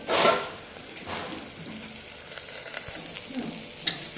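Bitter gourd sabzi sautéing in a pan, with a brief close scrape and clatter at the start, then a soft steady sizzle and a few light stirring strokes.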